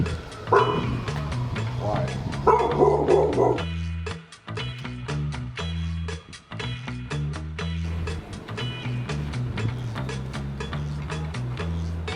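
A dog barks and yips repeatedly in a garage during work on a Yamaha Virago XV920 motorcycle, the sharp barks fairly close and loud, mixed with other workshop noise throughout.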